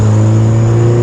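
Honda Civic Si with a K-series engine, catless downpipe, full race catback exhaust and cold air intake holds a loud, steady droning rev, a close and continuous engine hum with no talk.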